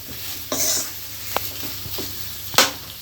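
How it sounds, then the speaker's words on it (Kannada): Chicken fry is stirred in sizzling oil in a pan, with a few scraping strokes and light clinks over a soft steady crackle, brief and close. "ಹೀಗೆ ಮಧ್ಯ ಮಧ್ಯ ಮಿಕ್ಸ್ ಮಾಡ್ತಾ ಇರಬೇಕು, ಇಲ್ಲಾಂದರೆ ಸೀದೋಗುತ್ತೆ ಕೆಳಗಡೆ."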